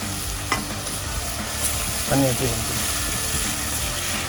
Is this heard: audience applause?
no